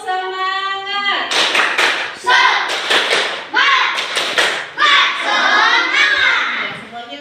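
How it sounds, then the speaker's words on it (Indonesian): A school class of children performs the tepuk semangat spirit clap, a run of loud, rhythmic hand-clap bursts in patterned groups, with a teacher's voice briefly before it and kids' voices mixed in. "Ayo kita tes tepuk semangat dulu"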